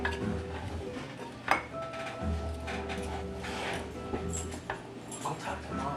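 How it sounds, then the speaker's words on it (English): A spoon stirs chili in a pot, giving scattered clinks and scrapes of metal against the pot with one sharper knock, over a steady low background hum. "I'm just gonna grab a spoon here and kind of give this a stir and incorporate all of this"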